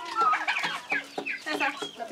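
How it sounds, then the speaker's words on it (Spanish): A hen on a farm gives a quick run of close, rhythmic clucks, several short bursts in a row, with other fowl faintly around her. "Alena, esa gallina."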